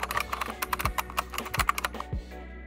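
Fast, uneven typing on a mechanical keyboard, sharp close clicks and clacks in quick bursts with occasional heavier keystrokes, no voices.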